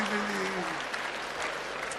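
Sustained applause from a large audience at a New Year's comedy concert, a dense, steady roar of clapping with some crowd murmur and a voice briefly audible at the start.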